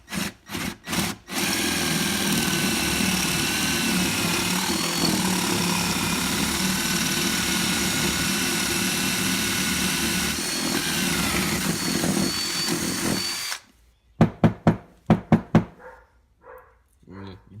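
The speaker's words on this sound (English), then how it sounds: "you're going to drill all the way up into this center hole" A power drill grinds steadily into a wooden carpenter bee trap block for about twelve seconds before stopping, followed by a few sharp knocks and clatter.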